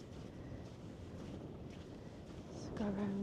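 Wind buffets the microphone on a beach, a steady close roar with the sea faintly beneath, and a short tonal squeal rises near the end.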